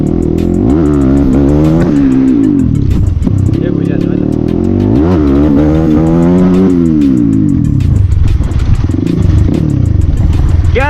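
A modified Honda CX250R motorcycle with its dB killer removed revs loudly and continuously up close, engine pitch rising and falling through repeated throttle blips, with occasional crackling misfires and someone talking over it.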